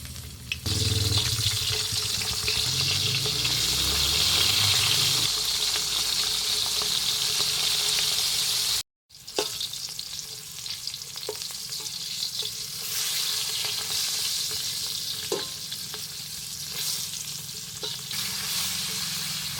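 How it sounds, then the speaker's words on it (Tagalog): Oil crackles and sizzles loudly as dried fish fries in a pan, steady popping spatter with a brief pause, then continued frying with occasional clinks. "Prito tayo ng ating daing."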